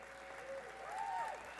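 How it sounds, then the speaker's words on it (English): A gala audience applauds, a steady wash of clapping held at a fairly even level, quiet and slightly distant, with a faint tonal whistle rising over it. "Yes, applaud yourselves."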